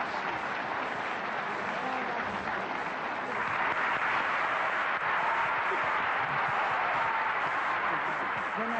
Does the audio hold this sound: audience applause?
yes